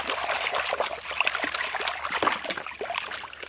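Water runs and trickles close by while a green and purple plastic toy water gun is washed, a continuous splashing stream with small irregular spatters.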